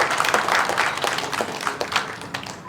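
An audience at a Women's Day celebration applauds in a dense, steady wash of many hands clapping, fairly loud and without talk.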